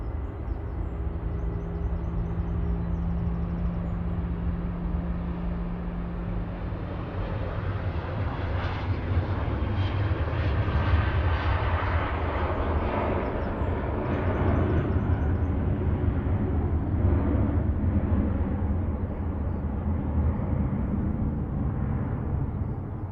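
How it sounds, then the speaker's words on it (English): A Jet2 Boeing 737-800 on its takeoff roll at Manchester Airport, bound for Girona, gives a loud, steady broadband engine roar that holds strong throughout with no voices. "Jet2 to Girona, flight 941, JZHM, 737-800 on the roll."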